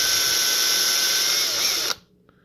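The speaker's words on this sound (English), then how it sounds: "So drill them both out" A power drill with a 5/64 bit bores out a rivet on a Hot Wheels toy car, a loud steady high-pitched whine that stops abruptly near the end, followed by a faint click.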